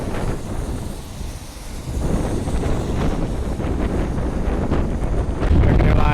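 Strong wind buffeting the microphone at Cleveland Hopkins airport during a high wind warning, a loud continuous rumbling roar with gusts swelling toward the end.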